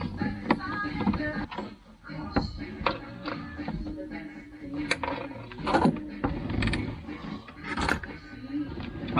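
Small nuts on a Peugeot 106 XSi 1.3 dashboard are unscrewed near the car radio, giving soft continuous mechanical rattling, scraping and clicking at close range with faint shuffling throughout.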